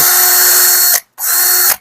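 Stanley SCD711D2 20V cordless drill whirring at speed in second gear, a loud steady high-pitched motor whine in two bursts separated by a short stop, with no talking.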